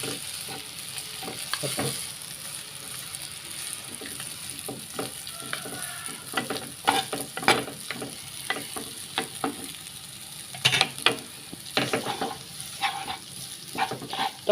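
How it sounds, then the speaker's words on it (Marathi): Noodles are tossed and mixed in a hot pan for a Goan prawn chow chow, with a soft continuous sizzle broken by frequent sharp scraping and clattering strokes of stirring. "आनी आतां नुडल्स घाता तितून मिक्स करता"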